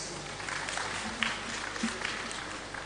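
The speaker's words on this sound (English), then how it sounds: "A round of applause for her, please." A conference audience at the Digital Nigeria International Conference applauds a speaker making her way to the stage, the clapping faint and steady like a distant wash of hands.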